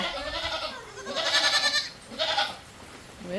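A nanny goat bleats close by in two drawn-out, wavering calls separated by a short pause, loud and clear with no talk over them.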